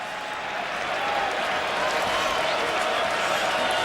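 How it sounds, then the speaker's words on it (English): The stadium crowd at the 2010 Rose Bowl between Oregon and Ohio State settles back in after halftime, a steady, broad, distant murmur and roar with a voice speaking over it. "The crowd settling back in after the intermission and the bands."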